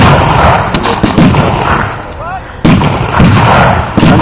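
Loud, sustained battle noise at a WW2 reenactment, with tank and small-arms gunfire in heavy, continuous bursts and sharp pops. Voices are faintly mixed in, and the din cuts out briefly before resuming.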